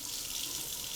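Water streaming steadily from a tap fitted with an aerator, a soft continuous hiss with no breaks.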